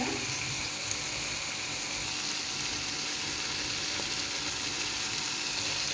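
Fried okra being mixed into masala in a pan, giving a steady, dense sizzling hiss that fills the whole moment at an even loudness, with no clear separate stir strokes standing out.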